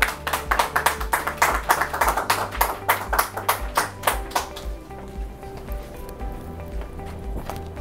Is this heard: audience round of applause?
yes